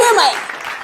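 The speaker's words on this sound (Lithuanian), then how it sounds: "Plojimai!" A burst of audience applause at a barbecue cooking contest show, a dense wash of clapping that starts loud and fades over under a second.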